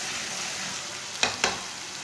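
Finely chopped tomatoes frying in a pan, a soft continuous sizzle with two brief sharp scraping stir clicks near the end, quiet and close with no voices.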